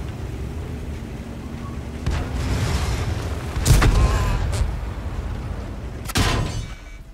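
A few sharp, loud bangs like gunshots burst out over a steady low rumble, with a couple of distinct cracks spaced several seconds apart.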